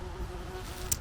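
Insect buzzing close by outdoors on the West Highland Way in Scotland, most likely a wasp, a steady low drone with a brief louder swell as it passes nearest near the end.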